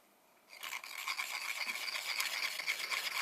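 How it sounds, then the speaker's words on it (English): A stick of pastel rubbed against the inside of a mesh screen, grinding it into powder: a steady, close, dry rasping scrape that starts after a short quiet moment and continues with a rough, bristly texture. "rub it on the inside of the mesh, you can see it's grinding it very nicely into a powder"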